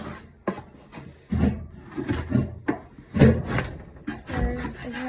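A small scraper rasps and scrapes across the bottom of a container in a series of close, uneven strokes with short pauses, some scrapes sharper and louder than others.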